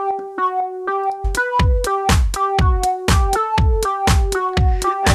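Synthesizer music with a noisy chorus effect on the synth, a steady rhythmic pattern of repeated notes and a pulsing kick-like beat, loud and continuous.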